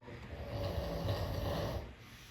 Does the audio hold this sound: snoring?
yes